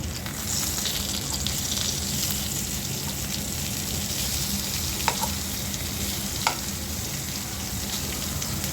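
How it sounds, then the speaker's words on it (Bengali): Slices of spiny gourd fry in oil in a pan, a loud, even sizzle throughout, broken by two brief scraping knocks as the pieces are flipped. "আর কাঁকড়ুল ভাজিটা উল্টে দিচ্ছি"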